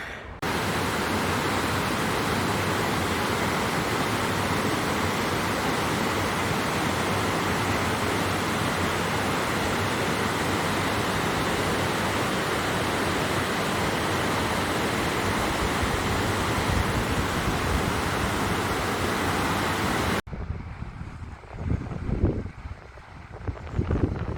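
A river rushes in the countryside near a campsite, a loud steady wash of broadband water noise for about twenty seconds, then it cuts abruptly to quieter, uneven outdoor sound.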